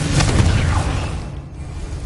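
Confringo blasting spell in Hogwarts Legacy, a single loud booming burst that rumbles and then fades away over about two seconds, close and unaccompanied by talk.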